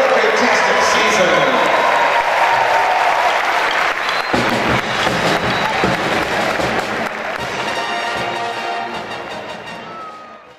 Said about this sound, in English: give you a great round of applause to these student athletes